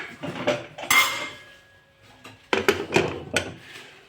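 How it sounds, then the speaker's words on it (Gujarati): A pressure cooker lid is handled and shut on a kitchen counter, with metal clanks and clinks in short bursts, close and fairly loud, separated by brief pauses. "હવે આપણે કુકરનું ઢાંકણું બંધ કરી દઈશું"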